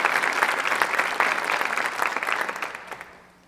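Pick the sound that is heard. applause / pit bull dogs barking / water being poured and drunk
applause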